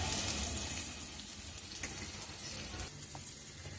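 Chopped onions sautéing in a pan for a Tamil dry fish curry, a continuous close sizzle and hiss with a few faint stirring scrapes, no voices.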